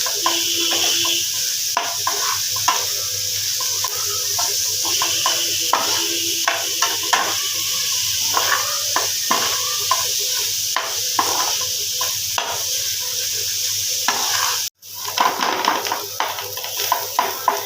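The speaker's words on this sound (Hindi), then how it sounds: "अब इन सब चीज़ों को अच्छी तरह से मिक्स कर लेंगे।" A spoon repeatedly scrapes and knocks in a pan as keema samosa filling with green onions is mixed over a faint sizzle, with steady strokes and one short break near the end.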